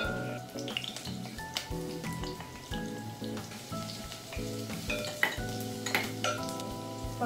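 Onion and garlic sautéing in a pan for Filipino ginisang sitaw, a soft crackling sizzle running under busy background music with occasional utensil clinks.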